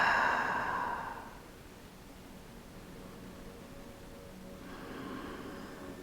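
A slow, deep breath during a gentle lower-body Pilates stretch: a soft airy exhale through the mouth at the start fades to near silence, then another breath swells faintly at the end, with no talking.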